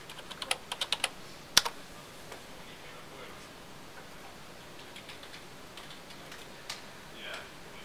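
Quick bursts of keystrokes on the keyboard of a Wyse desktop appliance as an admin password is entered, a rapid cluster of clicks at the start, then sparser, fainter taps over a quiet room.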